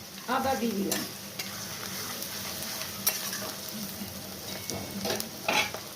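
Chopped ginger dropped into a hot pan while making pav bhaji, sizzling steadily with occasional spoon scrapes and stirring clinks, close and moderately loud with no talking.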